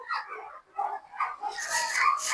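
Whimpers and yips from a newborn puppy in a litter still being born, soft high cries in short uneven bursts, close by with no talking.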